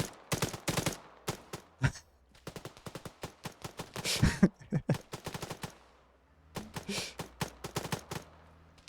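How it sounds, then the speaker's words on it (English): Gunfire in the military video game Antistasi rings out in loud bursts of rapid shots, with several short gaps and a longer pause before the firing resumes. "Yeah, you are hearing my gunshots."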